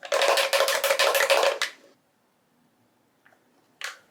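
A bottle of La Roche-Posay Anthelios SPF 50 fragrance-free sunscreen is shaken close up in a quick rhythmic burst of about a dozen sharp rattling strokes, then falls quiet apart from a couple of small handling clicks.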